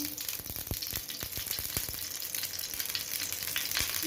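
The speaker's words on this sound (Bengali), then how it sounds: "তাওয়াটা গরম হয়ে গেছে। আমি এর মধ্যে অল্প সর্ষের তেল দিয়ে দেবো" Mustard oil sizzles on a hot tawa griddle with a continuous crackling hiss and scattered small pops and clicks, close and steady throughout.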